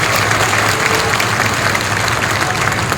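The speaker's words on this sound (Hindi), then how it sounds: "विजयराव जी के लिए और बड्डेराव जी के लिए एक बार जोरदार ताली आपकी बजनी चाहिए।" Strong, steady applause from an audience fills the whole stretch, a dense wash of clapping with no break.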